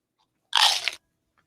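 A single loud, crisp crunching bite mimicking biting into a cell phone, a short burst of about half a second, close and isolated with silence around it.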